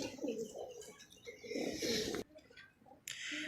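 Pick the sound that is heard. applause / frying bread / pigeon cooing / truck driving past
pigeon cooing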